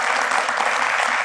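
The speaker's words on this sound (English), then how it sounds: "Give her a round of applause like that." Studio audience on a talk show bursts into steady, dense applause, a continuous wash of clapping hands held at an even level throughout the short burst.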